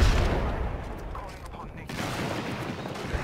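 Bombs explode in Apex Legends in a dense run of booming blasts and crackling gunfire-like bursts, loud and close, with a short drop in intensity midway before the barrage picks up again.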